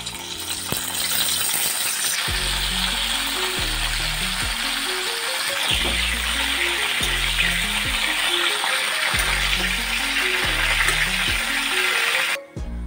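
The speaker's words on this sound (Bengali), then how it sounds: "তেলটা গরম হয়ে গেছে, এবার আমি ব্রকলিগুলো ছেড়ে দেবো" Broccoli florets fry in hot sunflower oil with a steady, close hiss and bubbling sizzle. A repeating stepped tonal pattern runs underneath, and the frying cuts off abruptly at the very end.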